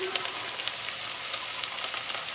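Continuous crackling sizzle of mushrooms, onions and garlic frying in oil in a pan, close and steady with small pops throughout.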